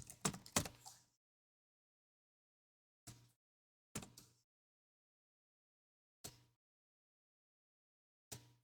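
Lyrics are typed on a computer keyboard in a quiet room: a quick cluster of close, crisp keystrokes followed by single isolated key presses spaced a second or two apart, with silence between them.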